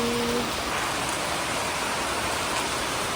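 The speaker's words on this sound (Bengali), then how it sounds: "বৃষ্টি বৃষ্টি বৃষ্টি," Steady rain pours down in a dense, even hiss that holds unbroken from start to finish, loud and close with no pauses.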